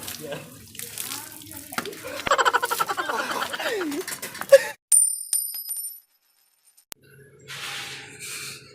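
Water is poured and splashed for bathing on a cold day, a close, uneven stream that runs for several seconds under a voice, then breaks off into scattered drips and softer splashes.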